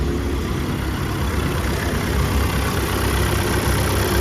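A 2022 Volkswagen Tiguan engine idles steadily up close, a continuous even rumble with no voices over it.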